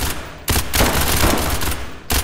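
Rapid automatic gunfire from the tactical shooter game SCP 5K, loud and close, with dense bursts of shots broken by brief pauses and no speech over it.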